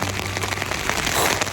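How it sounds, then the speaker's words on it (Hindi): Rain beats hard on a tent in a strong windstorm on a cold mountain pass, a loud dense patter with gusty rushing close by and no talk. "इतनी तेज आंधी चल रही है ना बाहर, तगड़ी वाली ठंड हो रही है।"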